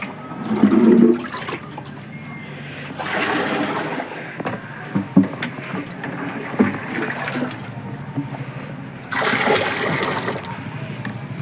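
Water running from a tank at a village home, an uneven gushing and splashing flow that swells in bursts and eases between them, close by, with faint voices at moments.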